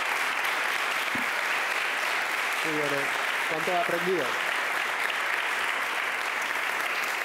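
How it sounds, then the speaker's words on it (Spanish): At the close of a talk, an audience gives steady, dense applause that fills the room, while a voice speaks briefly partway through. "Vamos a darles un aplauso."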